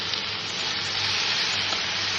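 Poppy seed paste sizzles and fries steadily in a hot pan, a dense, even crackle held close and loud throughout with no pauses.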